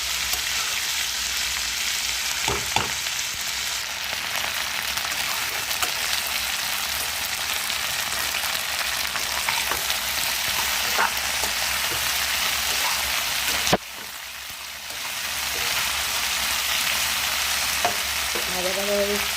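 Yardlong beans and potatoes fry in a pan while being stirred, making a continuous close sizzle with occasional scrapes and a brief dip in the noise partway through.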